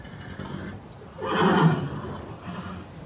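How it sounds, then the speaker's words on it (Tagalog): A very large horse whinnies once in a loud, rising burst mid-clip, with a low rumble of background noise before and after and no voices. "Ngayon lang ako nakakita ng ganito kalaking kabayo."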